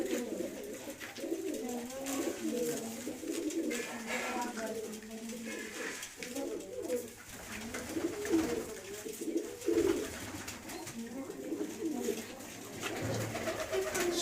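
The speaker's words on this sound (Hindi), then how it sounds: "पीली आँखों का कबूतर है जी।" Yellow-eyed pigeons kept by a fancier coo repeatedly in low, soft rolling calls, close by and steady throughout, with background noise and occasional voices mixed in.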